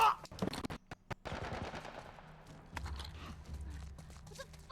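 Rapid military turret gunfire in The Last of Us, loud bursts of shots with sharp separate cracks early, then sustained chattering fire and low rumble under scattered distant impacts.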